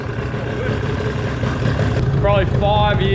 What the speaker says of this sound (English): Probably 5 years without this engine actually running.